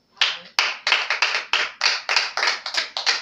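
A congregation claps at a church service, with sharp, fairly loud hand claps in an irregular group rhythm that runs for the whole stretch and has no talk over it.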